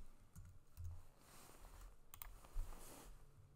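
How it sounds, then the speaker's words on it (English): Quiet typing on a computer keyboard, soft scattered key clicks over a low background hum, with no talking. "this time I'm going to type in champagne"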